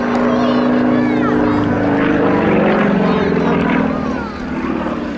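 A Super Pitts model aerobatic plane flies an extended loop in strong wind, its propeller engine droning loudly and steadily with a shifting pitch while someone talks over it.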